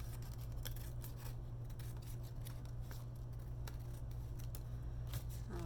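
Scissors snip through scrap material in a quiet crafting session, a series of light, quick cutting strokes close by over a steady low background hum.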